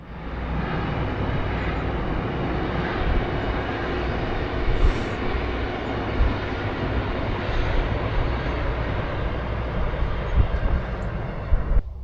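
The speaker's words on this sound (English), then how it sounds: "there should be a train going over that viaduct any second now" A train crossing a viaduct on the Ribble Valley Line near a reservoir, heard as a steady, broad rumble of rolling stock and engine that holds at a constant level from start to finish, with no talk over it.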